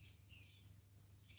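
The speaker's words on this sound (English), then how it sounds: "To be able to hear the birds chirping" Faint, repeated high chirps from a bird, about four evenly spaced calls over a quiet, low background hum.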